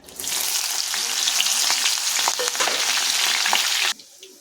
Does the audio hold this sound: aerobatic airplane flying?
no